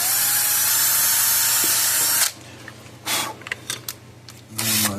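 A power drill bores a hole into the circuit board of an old Tru-Test EZ Weigh 2 livestock scale, whining loud and steady for about two seconds before cutting off, followed by faint handling clatter and a brief second burst.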